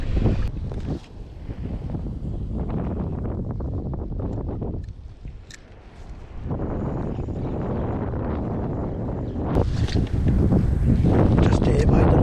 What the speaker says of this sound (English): The wind started to pick up again